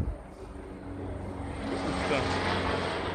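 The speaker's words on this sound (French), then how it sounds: "Un hélico qui nous passe à deux mètres de la gueule ici." A low-flying helicopter passes close overhead in Rome, its rumbling roar rising steadily from moderate to loud over about three seconds, with voices talking underneath.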